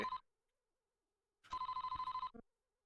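Telephone ringing in the SNES detective game Famicom Detective Club 2, an electronic trilling ring in two bursts separated by silence, the second longer with a rapid warbling pulse, loud and clear with no talk.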